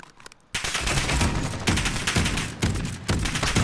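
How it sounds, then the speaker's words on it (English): A flamethrower shotgun in Call of Duty Modern Warfare fires four loud, roaring blasts in quick succession. Each one is a dense, crackling burst up close. "And this is the flamethrower."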